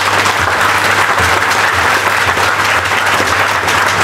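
A congregation applauds at a parish patronal feast mass for Sainte Geneviève in Mbour, producing a loud, dense, sustained wash of clapping with a low hum running underneath.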